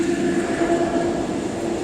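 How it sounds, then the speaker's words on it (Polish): A freight train carrying liquid cargo passes nearby with a steady, continuous rumble and drone, loud and even for about two seconds, with no voices. "O, jedzie pociąg."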